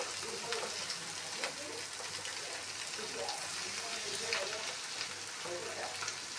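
Eggs fry and get stirred in a pan, a steady soft crackle with low hum underneath and scattered light scraping taps, continuous and fairly quiet throughout.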